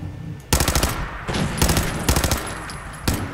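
Rapid automatic gunfire in Fallout 4 aimed at a bloodsucking bug, coming in four or five loud bursts separated by short gaps, with no speech.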